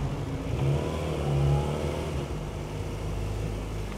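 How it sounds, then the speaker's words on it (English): Honda CBR motorcycle engine revving, a steady mid-pitched drone that swells and eases over a few seconds, heard alone without talk. "Not like the sound of my bike,"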